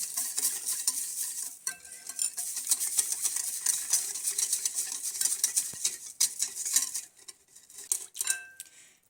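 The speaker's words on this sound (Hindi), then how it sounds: "इसको हमने अच्छे से मिक्स कर लेना है ताकि इस पे जो चीनी है वो घुल जाए" A spoon stirring a pizza dough mixture in a bowl to dissolve sugar, continuous close scraping and clinking against the sides with a few sharper taps, no voices.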